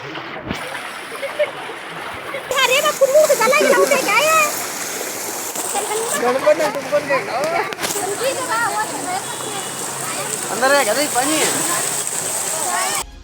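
Floodwater from a pond burst by heavy rain in Shiggaon pours into houses, a continuous rushing, splashing flow that swells loudly after a quieter start, with indistinct voices in the background.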